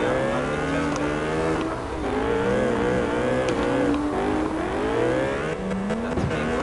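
Drift cars in a pro-class drifting championship battle at West Coast Arena, engines roaring loud and continuous with rising and falling revs as they chase each other through the run, with tire noise underneath.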